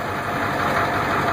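A Ford F250 with a 7.3 IDI diesel engine idles steadily and fairly loud, its broad, even rumble holding nearly constant, with no speech.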